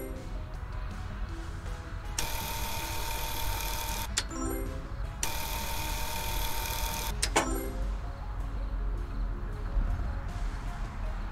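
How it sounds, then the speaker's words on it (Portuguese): Welding tool in a Paw Patrol video game, two long bursts of harsh buzzing hiss separated by short gaps, loud and electronic over quiet game background sound. "Soldar essa parte."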